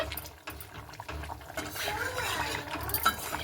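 A spoon stirs beaten eggs into a papaya and potato curry in a pan, producing a close, continuous wet scraping and sloshing with occasional clinks of utensil against metal.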